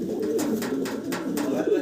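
Satin pigeons coo continuously close by, a low warbling drone with soft repeated pulses, while a person talks faintly underneath.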